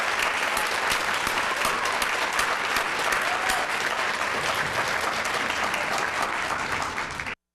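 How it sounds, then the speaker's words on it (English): Audience at a children's spelling bee gives the spellers a long, steady round of applause, many hands clapping densely at even loudness before it cuts off abruptly. "Let's give them all a round of applause as we"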